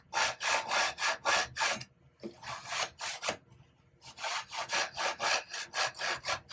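A hand saw cuts through wood in long, rhythmic back-and-forth strokes, close and loud, pausing briefly partway before resuming at a steady pace.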